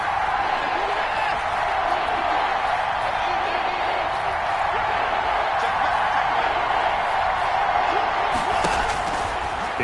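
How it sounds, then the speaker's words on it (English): A broad, steady roar of a stadium crowd in the Madden 21 American football game, Eagles against Rams in pre-season, holds constant and loud, with commentary voices running over it. "Crowd getting in it a bit already."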